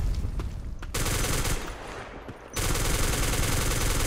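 Automatic gunfire bursts in a chaotic online shooter match, loud and sustained with brief breaks between volleys, a dense rattling texture close up.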